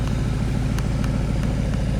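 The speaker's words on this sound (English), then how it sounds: "you really start hearing the exhaust" A Porsche Panamera Turbo S E-Hybrid Sport Turismo's exhaust rumbles while driving, a steady, fairly loud low engine drone with a pulsing throb and no talk.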